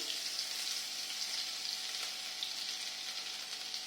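Grated ginger sizzles in a hot pan of oil while home cooking a dal, a steady broadband frying hiss that runs unbroken and fairly quiet, with no voices.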